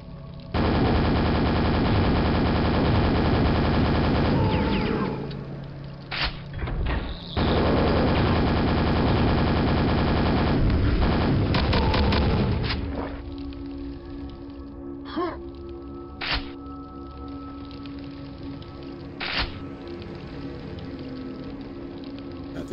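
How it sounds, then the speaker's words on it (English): Rocket launcher blasts and explosions in Quake, loud repeated booms and bursts dominating the first half, then sparser impacts over a quieter droning background. "I forgot that I had the rocket launcher as well. Just use that instead of grenades."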